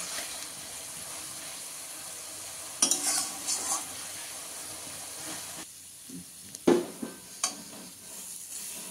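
Masala for a duck egg curry sizzles and is stirred in a pan, with scraping bursts of the spoon standing out over a steady low frying hiss; no one speaks.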